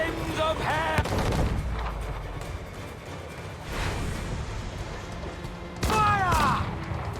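Ship cannons firing in Assassin's Creed 4 Black Flag, with heavy booming blasts in a naval battle. Shouted voices come in at the start and again near the end over the rumbling gunfire.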